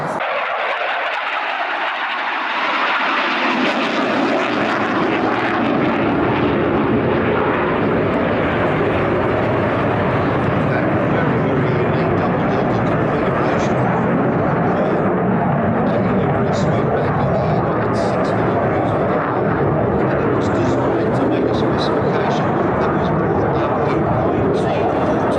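A historic Swedish Air Force jet fighter performs an airshow display at the Midlands Air Festival, its engine roar swelling up quickly and then holding as a loud, sustained, rasping blast, with a commentator's voice over it.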